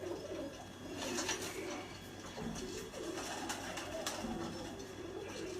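Pigeons kept as a breeding pair coo softly and repeatedly in a loft, with low throaty calls rising and falling over a faint background hum.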